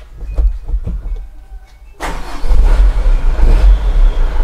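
A truck engine cranks with a few rhythmic starter turns, then catches and roars to life, settling into a loud, close rumbling idle.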